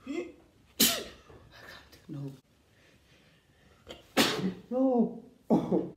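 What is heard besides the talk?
sneezing after trying snuff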